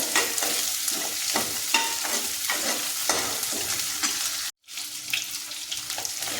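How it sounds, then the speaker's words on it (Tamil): Onions for radish sambar are sautéed in a pan, giving a continuous sizzle broken by a steady rhythm of scraping spatula strokes. The sound drops out briefly near the end, then resumes. "வெங்காயம் நல்லா வணக்கிட்டு"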